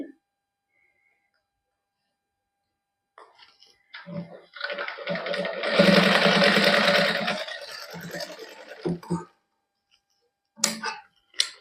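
A sewing machine stitching lace onto a neckline runs in one close burst of several seconds, with quiet clicks and handling noises before and after.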